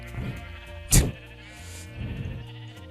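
A sheep in the video game Minecraft bleats softly a couple of times against quiet game ambience, with a sharp thudding hit near the middle, mid-distance and fairly faint.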